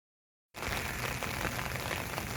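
Rain begins to fall in the Arizona desert under an overcast sky, a steady close hiss of drops that starts abruptly after a moment of silence and holds evenly.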